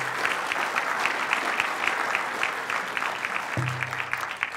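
Sustained crowd applause during a mayor's State of the City address in 2019: thick, even clapping from a large audience, continuous throughout, with a low hum entering near the end and no speech on top.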